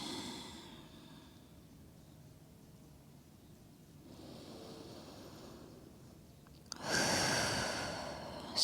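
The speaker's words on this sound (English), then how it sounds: "Slow, steady, long breaths." Slow, steady breaths during a yoga expansion-breath practice, soft airy exhales at moderate distance, a quieter stretch midway, then a louder, fuller breath near the end; no talking.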